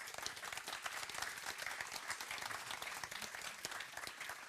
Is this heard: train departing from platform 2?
no